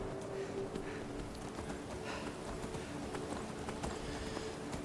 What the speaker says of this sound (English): We don't want to run off the mountain with our horse.